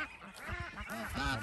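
A duck quacks in a short run of nasal calls at close range on a Vietnamese farm with goats and chickens nearby, the harmonic honks coming in quick bursts over low background noise.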